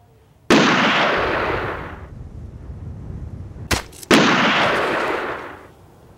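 Two sharp gunshots ring out in a duel, each a loud close crack followed by a long fading echo, spaced about three and a half seconds apart with a brief thump in between.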